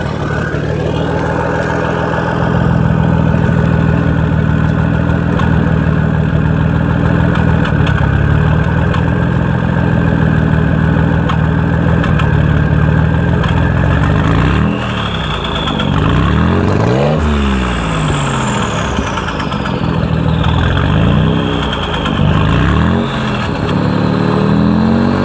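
Warmed-up twin turbo Ford 300 inline-six exhaust, heard from behind with no load, idles with a loud, steady low rumble, then gets several sharp revs that rise and fall.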